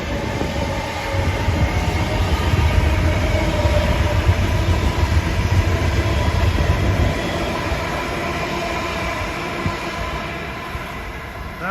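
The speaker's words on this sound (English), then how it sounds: "That was an equipment train from West Hempstead to Grand Central." An LIRR equipment train running from West Hempstead to Grand Central passes Valley Stream, a loud steady roar of wheels and rail rumble that holds throughout and eases slightly toward the end.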